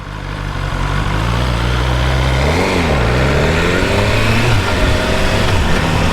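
A BMW S1000R motorcycle engine of about 160 horsepower runs steadily close by at a loud, even level, with a brief pitch dip and rise midway, like a light blip of the throttle.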